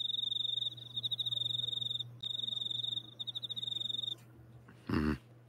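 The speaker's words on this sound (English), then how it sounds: "You know why there are crickets going on?" Crickets chirp steadily in a high, pulsing trill that repeats in bursts, with a low hum underneath and a brief louder thump near the end.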